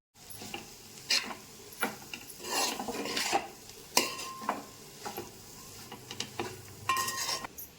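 A spoon scrapes and stirs ivy gourd fry with coconut powder in a pan, giving repeated rasping strokes at an uneven rhythm with a faint sizzle underneath, close and alone.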